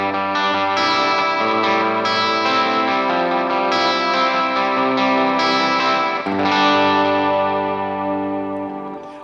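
An electric guitar on its bridge pickup, run through effects, rings out in loud, sustained distorted chords with a chorus-like shimmer, each strum decaying into the next over about nine seconds with no voices.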